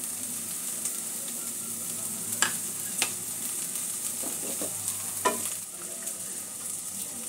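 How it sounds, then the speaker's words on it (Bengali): Onion and black peppercorns sauté in hot oil for a chicken egg soup, giving a continuous close sizzle punctuated by several distinct spatula clicks and scrapes against the pan. "পেঁয়াজটা একটু সাঁতলে নেব।"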